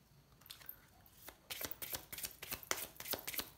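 Tarot cards shuffled by hand in a quiet room, a few soft riffles at first, then a dense run of crisp flicking and slapping card strokes, close and fairly quiet, with no talk over them.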